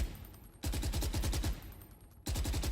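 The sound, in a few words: suppressed gun firing in the video game VALORANT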